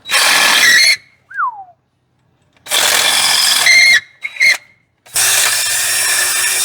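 A power drill whirs in loud bursts drilling out an old part, stopping and starting several times with short pauses and a brief squeal between runs.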